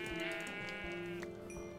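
A single sheep in Minecraft gives a close, clear, wavering bleat that lasts over a second, alone without talk.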